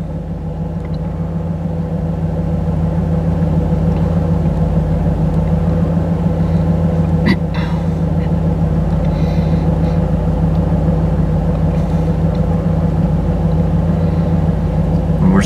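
A 3rd gen Chevrolet Camaro with a 305 TPI V8 idling in neutral after a cold start, a steady deep low rumble throughout with one faint click midway.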